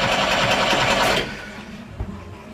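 Starter on a sailboat's engine cranks in a rapid, even mechanical chatter for about a second without catching, then cuts off, leaving quieter background noise and a faint knock.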